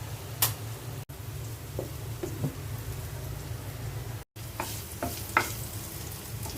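Onions frying in a pan on a home stove give a steady close sizzle with scattered crackles and a few stirring clinks, running continuously apart from two brief dropouts.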